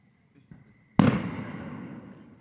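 A single firework bursts in the distance with a sharp boom that rolls away into a long fading rumble, preceded by faint small pops.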